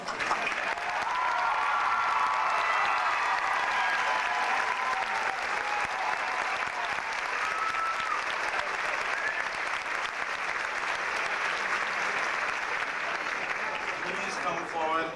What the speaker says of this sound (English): You can applaud if you'd like.